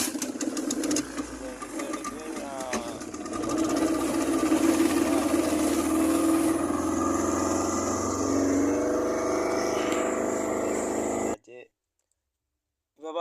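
A fishing boat engine chugs loudly and steadily out at sea off Trincomalee, with a rapid clattering mechanical rhythm, then cuts off abruptly near the end, leaving silence broken by brief voices.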